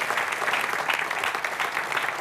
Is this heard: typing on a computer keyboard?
no